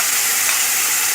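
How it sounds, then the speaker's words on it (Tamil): Mustard seeds and curry leaves tempering in hot oil for a Navaratri sundal, a loud, dense, continuous sizzle and crackle close up, with no voices. "எண்ணெய் காஞ்சோன்னா கடுகு கருவேப்பிலை போட்டு தாளிச்சுக்கோங்க"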